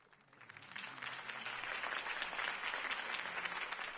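A large crowd breaks into applause after a campaign speech, swelling from quiet to a sustained dense roar of clapping that continues to the end.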